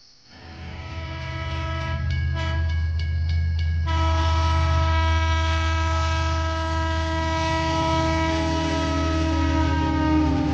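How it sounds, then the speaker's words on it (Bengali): A train pulls out of a car shed and gathers speed, giving a loud, continuous tonal drone with layered harmonics that swell and hold steady after a few seconds. No voices are heard. "ট্রেনটা কার্শেড ছেড়ে বেরোতেই বেশ ভালোই গতি নিয়ে নিল"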